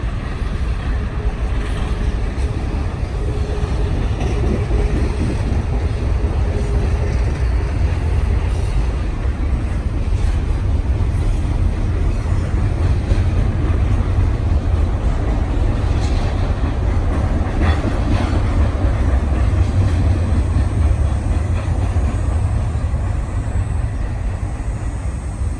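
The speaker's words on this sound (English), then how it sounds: "And now this CP double stack, well, mostly double stack, heading 2 points west, I guess." A CP double-stack freight train passing at Dorval, a steady loud low rumble of rolling cars with faint clanks that continues throughout, heard without talk.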